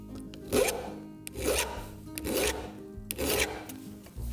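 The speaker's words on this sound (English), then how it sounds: "that's how I file my chains" A chainsaw chain is hand filed in four even, rhythmic rasping strokes, each a close, scratchy rub followed by a short pause, with no talking.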